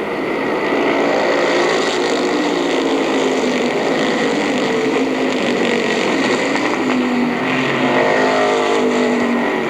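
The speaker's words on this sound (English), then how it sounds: "The green flag is out as we resume the racing." Race cars roar back to speed after a green-flag restart in a mid-season championship feature at Mt Clemens Racetrack in 1984, a steady, loud, continuous engine drone with no talking.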